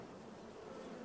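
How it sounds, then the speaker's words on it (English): Bees in Farming Simulator 22 give off a brief, steady, faint buzzing drone that holds even throughout. "So, are these our bees or is somebody else?"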